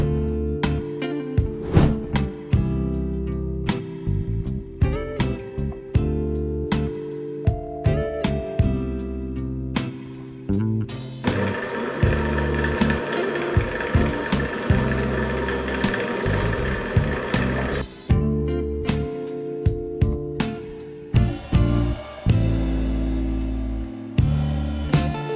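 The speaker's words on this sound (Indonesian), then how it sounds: "kalau misalnya mau ngaduk dalam kecepatan tinggi atau dengan daya yang pasti lebih hemat, bisa pakai mixer seperti ini" An economical planetary mixer for home-business use runs with a steady electric motor hum and mechanical whir, punctuated by repeated knocks and clicks, with a rougher, noisier stretch in the middle, and no talking.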